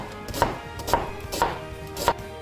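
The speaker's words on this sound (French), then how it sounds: "On passe maintenant à éplucher un oignon" Knife chopping an onion on a cutting board, four evenly spaced crisp thuds about half a second apart, close and clear with no talking.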